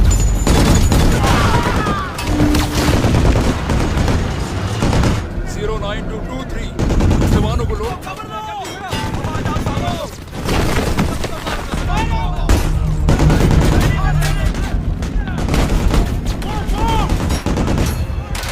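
Sustained bursts of gunfire in a battle, rapid shots and heavy booms layered over a loud, chaotic mix with voices underneath.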